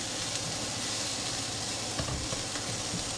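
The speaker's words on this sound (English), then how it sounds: "So I've got one small onion going in the pan here with a little bit of oil" Small chopped onion frying in a little oil in a pan gives a steady close sizzle and hiss, continuous and even across the few seconds, with a faint stirring scrape.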